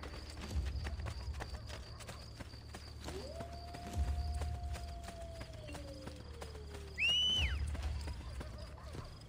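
Hooves of a horse in Assassin's Creed Brotherhood clip-clop in a few sparse thuds under game ambience, with a long tonal cue sweeping through the middle and a brief bright chime near the end.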